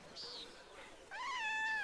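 A cat in the video game Assassin's Creed Mirage, a faint short mew followed by a clear, drawn-out meow, close and alone.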